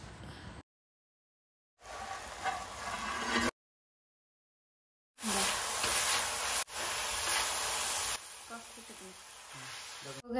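Crab roast masala sizzling in a pan while being sautéed, a loud steady hiss and crackle in several sections separated by silent gaps, with faint stirring scrapes.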